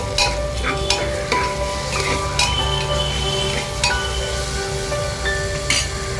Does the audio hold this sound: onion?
yes